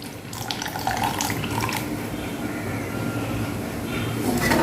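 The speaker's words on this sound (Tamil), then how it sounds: "புளித்தண்ணி சேர்த்துக்கலாம்." Tamarind water poured into a pot of sambar made with moong and toor dal, a steady running liquid splash lasting several seconds, close and moderately loud, with no speech over it.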